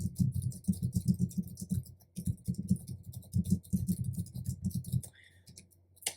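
Rapid clicking of computer keyboard keys in bursts with short pauses, close and fairly quiet, ending with a few isolated clicks.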